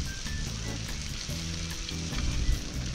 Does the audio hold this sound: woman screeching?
no